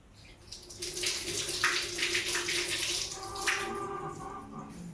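Tamarind is swished and washed in water, a close splashing and sloshing that swells and recedes over a few seconds.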